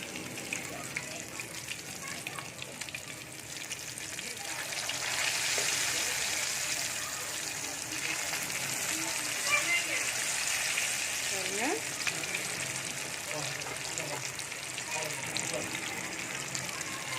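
Fish sizzling steadily as it fries in a pan, a continuous broadband crackle that swells slightly midway, with occasional soft clinks and faint background voices beneath.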